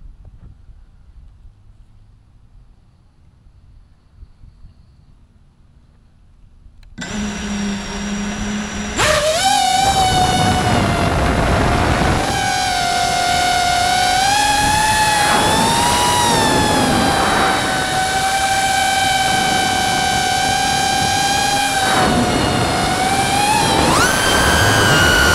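Freestyle FPV drone fitted with Supernova 2207 1980kv motors whines loudly and continuously after a quiet start, pitch rising and falling with throttle changes through the flight.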